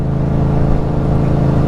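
A 2018 Yamaha MT-07 fitted with a Ransoto exhaust rumbles loudly and steadily at close range, its deep engine note holding even with a slight swell midway, with no voices over it.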